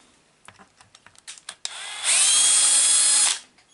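Power tool driving out screws from an RC car chassis: a series of light clicks and taps, then a loud, steady high-pitched whine for about a second that winds down, close up, no voices.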